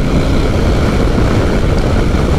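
A Harley-Davidson Road Glide ST motorcycle under throttle, a loud, dense, steady engine roar with heavy low-end rumble lasting just over two seconds, close by and without speech.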